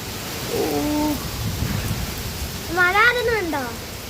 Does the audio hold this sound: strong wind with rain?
yes